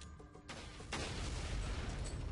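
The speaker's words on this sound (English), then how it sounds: "I just like the little explosion that Salazar head makes" A Salazar head explodes in Resident Evil 4 with a loud pop that turns into a burst of sustained crackling, rushing noise, following a quieter moment of game sound.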